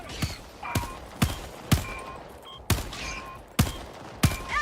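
Gunfire in Helldivers 2: six or seven sharp, loud single shots spaced about half a second to a second apart, each with a brief ringing tail over a low rumbling background.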